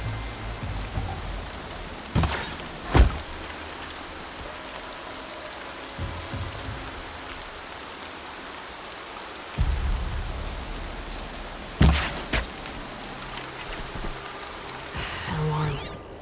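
Steady rain falls in Horizon Zero Dawn, a constant hiss of drops on surfaces, interrupted by a few sharp loud thumps and low rumbling bursts scattered through the rainfall.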